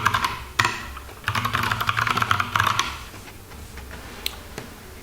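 Keys clatter on a computer keyboard as a password is typed during an elementary OS setup, with short bursts of close, crisp tapping separated by brief pauses.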